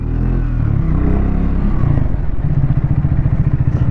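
A liquid-cooled motorcycle without traction control rides at an easy city pace, its engine a loud, close, steady throb that settles into a rhythmic pulse partway through, with no talking.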